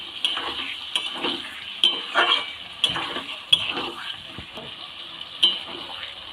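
Small new potatoes fry with spices for a vegetarian dum aloo, a moderate sizzle under frequent sharp clicks and scrapes of a spatula stirring against the pan, with a voice briefly in the background.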